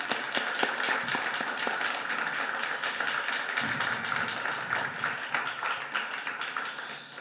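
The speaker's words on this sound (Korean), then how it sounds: "우리 하나님께 영광의 박수 드립시다." A church congregation claps together in steady, continuous applause that fills the room at moderate loudness, without voices on top.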